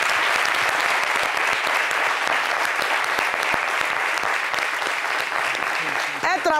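Loud, sustained clapping from a studio audience at a talk show, dense and even from start to finish, with a brief voice surfacing near the end.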